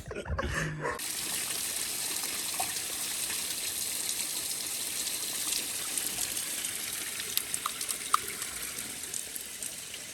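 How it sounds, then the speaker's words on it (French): Water splashes and trickles steadily from a fountain into an old stone wash basin, a continuous close wash of spattering liquid with brief voices at the start. "lavoir slash fontaine, slash ils ont pas du tout géré l'irrigation de l'eau et ça éclabousse de partout"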